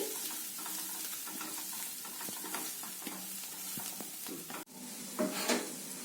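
Chopped onions sizzling in a pan while being stirred, a steady close hiss and crackle with faint scraping strokes, a brief dip near the end, no voices.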